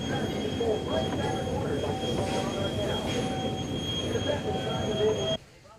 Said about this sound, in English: The narrow gauge tracks take our train over tall trestles and weave back and forth through the impressive timber.